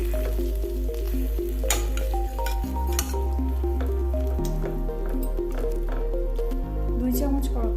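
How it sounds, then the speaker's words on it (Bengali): Sauce being stirred into chilli pasta in a pan gives a continuous sizzle with soft stirring noises, heard under prominent background music. "আমি সসটাকে দিয়ে দিচ্ছি। সামান্য একটু নাড়াচাড়া করে নেব।"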